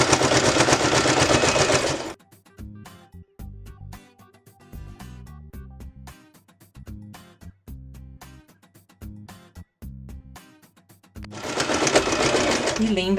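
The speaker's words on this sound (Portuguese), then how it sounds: "vamos passar uma costura agora em todo o coração" A sewing machine stitches around a fabric heart-shaped oven mitt, with loud, rapid bursts of stitching at the start and end and slower, halting stitches in between, someone talking over the quieter middle.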